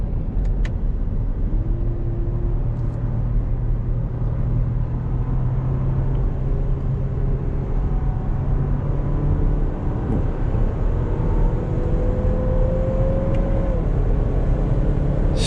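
Inside a 2024 Lexus NX 350 driving after a manual downshift, a steady low road rumble fills the cabin while the engine note rises and falls in gentle, drawn-out sweeps.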